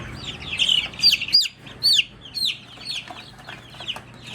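Chickens, including a brown speckled hen, cluck and give high, chirpy peeps inside a salvaged-wood coop, in a quick, uneven stream of close calls with no talking.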